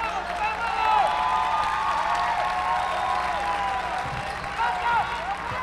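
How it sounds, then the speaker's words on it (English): Crowd of basketball fans applauding steadily at a girls' high school quarterfinal game in a gym, sustained clapping throughout with a commentator talking over it. "the Main Streeter fans applauding this strategy"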